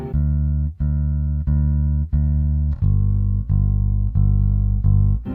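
A bass line of steady sustained notes plays alone through a Flex reverb pedal, about eight notes in an even rhythm, with a washed, reverberant tail.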